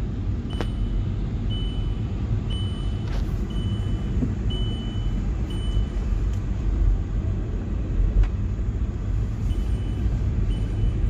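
A Volkswagen Polo base model on 17-inch alloys drives along with a steady engine and road rumble from inside the cabin, punctuated by faint repeated electronic beeps.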